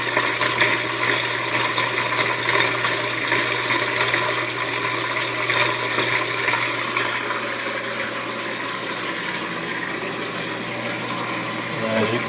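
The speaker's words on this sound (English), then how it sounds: "it's probably going to take a minute for all of this to drain out" Magic Chef washing machine draining a full tub of water, a steady continuous rushing and gurgling wash of water with a low pump hum underneath, holding level throughout.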